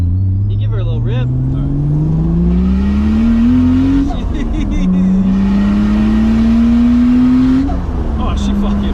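A turbocharged Toyota Supra project car engine revs up hard twice, the pitch climbing steadily each time before dropping back, loud and close with no voices over it.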